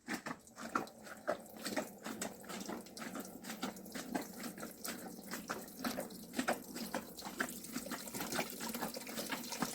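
Grape juice runs steadily from a tap while making grape molasses, a continuous rushing flow with small gurgles and splashes throughout, fairly close.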